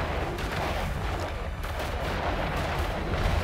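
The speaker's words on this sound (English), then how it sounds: "so we can watch the explosion." Spaceship explosion in the EVE Online space game during a level 4 combat mission, a dense, continuous roaring blast of crackling noise holding steady at full loudness.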